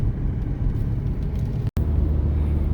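Steady low rumble of a Volkswagen Golf Mark 5 driving on the road, continuous engine and road noise from inside the car with a brief dropout near the end.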